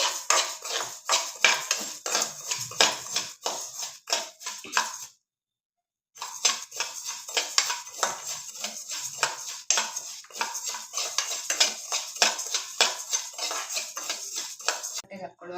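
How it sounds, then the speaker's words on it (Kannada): Coriander seeds dry-roasting for sambar powder while a utensil scrapes and clinks against the pan in a quick, steady rhythm, loud and close, with a short break partway through. "ಧನಿಯಾ ಚೆನ್ನಾಗಿ ಫ್ರೈ ಮಾಡ್ಕೊಳ್ಳೋ"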